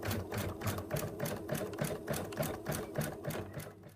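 An embroidery machine sews a basting-stitch placement line for an in-the-hoop moose design, producing a close, steady rhythmic clatter of quick regular needle strokes with no voices.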